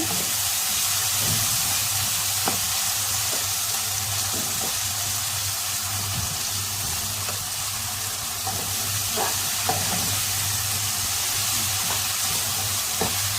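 Tomatoes for masala semiya cooking down in a pan, giving a steady, even sizzle and bubbling hiss that carries on without a break, with faint clicks and light stirring ticks scattered through it and no voices.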